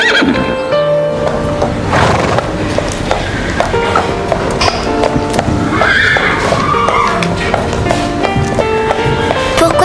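A mare in an animated show neighs and whinnies loudly while hooves clip-clop steadily beneath, over a busy music-backed scene with no talk.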